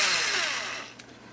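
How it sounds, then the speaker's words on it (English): A power drill reams out holes in the palm piece of an Osprey/Gamma Raptor, giving a close, high-pitched whine that fades as the bit winds down over about a second. "This thing's just going to want to drill all the way through"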